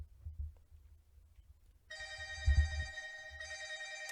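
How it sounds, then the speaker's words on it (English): A telephone rings in a podcast setting: a steady electronic ringtone starts partway through and carries on to the end, clear and fairly close, with some low thumping beneath it and no one talking. "Oh, I got a phone call."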